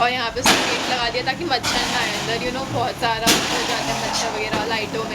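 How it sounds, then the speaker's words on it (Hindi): Diwali firecrackers burst as sharp broadband cracks in the background during a home celebration, with several loud reports scattered under someone talking throughout. "आप सुन सकते हो कि पीछे कितने पटाखे वगैरह बज रहे हैं।"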